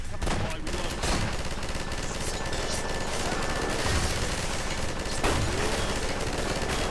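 Continuous gunfire in the shooter Half-Life 2, a dense unbroken clatter of shots and firefight noise with occasional sharper cracks, steady and loud throughout.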